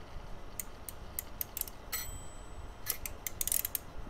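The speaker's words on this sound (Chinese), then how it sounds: "发条，" A clockwork wind-up mechanism ratchets in short, sharp ticks and clicks, sparse at first and then bunching into quicker bursts, heard alone over a faint hiss.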